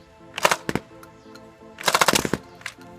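A BOOMco Halo MA5 dart blaster fires two rapid bursts, loud sharp cracking clatters in quick succession separated by a short pause, with no talking.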